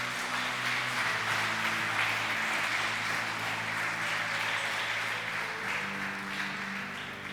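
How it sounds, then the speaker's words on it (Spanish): Church congregation claps and applauds steadily throughout, a broad even wash of hands that sounds moderately distant and sustained, with a low musical hum from instruments underneath. "Dele un aplauso al Señor"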